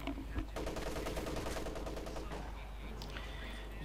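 MG34 machine gun in Company of Heroes 2, rattling off a sustained rapid burst of shots amid the din of a battle, with fire continuing at a lower level toward the end.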